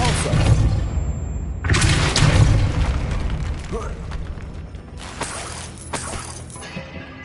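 A Depulso spell cast in Hogwarts Legacy gameplay, a loud whooshing burst with crashing impact, followed by a second burst a few seconds later amid rumbling game effects.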